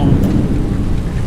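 Boeing 737NG engines on full reverse thrust after landing in X-Plane 11, a loud, low, roaring rumble of jet noise, steady and broad, filling the cabin without talk.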